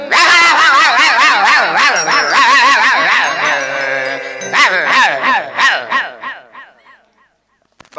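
Dogs barking loudly and close, many overlapping yelping barks in a rapid rhythm, mixed with a honking, goose-like call, during a Danda Nritya folk performance, fading toward the end with no talk.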